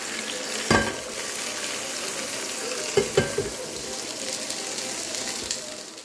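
Steady frying sizzle of leaf-wrapped fish in coconut oil in a pan fills the clip, with a few sharp clatters of a pan or utensil near the start and middle.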